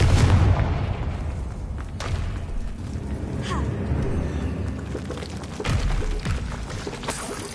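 A Confringo fire-blast spell bursting in Hogwarts Legacy, a low booming impact with a crackling tail, followed by lighter thuds and rumbling under game ambience.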